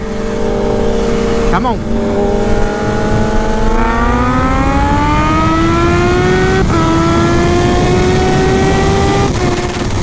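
A 2020 Kawasaki Z H2 motorcycle accelerates hard in third gear, its loud, close engine whine climbing steadily in pitch with a brief dip, as a rider says a couple of words.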